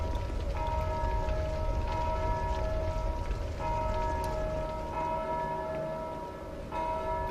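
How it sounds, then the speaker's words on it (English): A bell tolls repeatedly in Dark Souls 2, steady rings with a long metallic decay, each strike sounding at a regular interval against a faint, rain-like ambient hiss. "That means there's another bell somewhere in that room."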